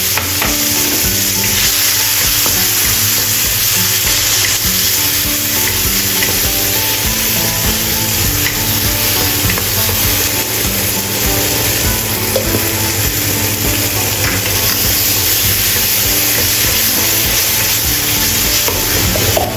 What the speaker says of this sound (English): Stir-fry tomatoes to release red oil.